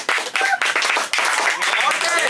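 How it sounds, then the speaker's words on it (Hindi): Hands clap in quick bursts at a street-food aloo tikki eating challenge, mixed with loud, close voices talking over the clapping. "ताली बजाओ"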